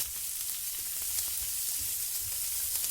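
Small onions sizzle steadily in hot oil with mustard seeds and urad dal in a tempering, a continuous bright frying hiss with faint occasional stirring scrapes and no talking.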